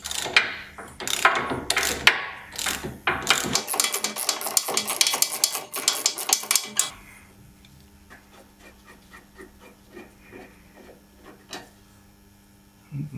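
A ratchet wrench loosens the nut on a BMW X5 E53 front stabilizer link with quick, loud clicking strokes up close, giving way to faint scattered ticks and quieter handling noises.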